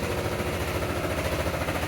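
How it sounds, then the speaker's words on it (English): A washing machine and a gas dryer run together indoors, giving off a steady, even mechanical hum and faint rattle with no pauses and no voices. "I'm running laundry."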